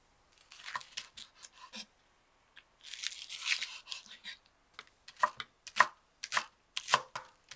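A knife finely minces scallions and garlic on a board, sounding as quick bursts of crisp, rhythmic chopping separated by short pauses, close and fairly loud, with no speech.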